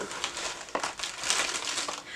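Crinkly rustling and crumpling as bubble wrap and tissue paper packaging from an Urban Decay cosmetics order are pulled apart close up, in short irregular bursts.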